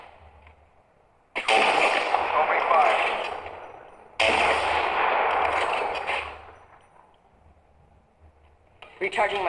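Automatic weapons fire in the mobile shooter Apex Legends Mobile, with two long, loud bursts of rapid shots separated by a brief pause and another burst starting at the end, and no talking.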